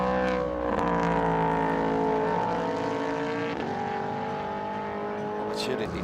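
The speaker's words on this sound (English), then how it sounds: "Opportunity just to listen to that leading car." A Speed Euroseries race car engine at Montmeló roars at high revs, its pitch rising and shifting through gears, loud and sustained with a droning tone throughout.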